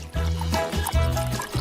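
Cooking oil poured from a bottle into a pan in a home kitchen, a close gurgling trickle coming in a few uneven glugs with short gaps between them.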